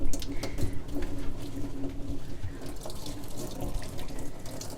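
Tap water runs steadily into a sink while recycling items are hand washed, a close, continuous splashing flow with small clinks and no talking.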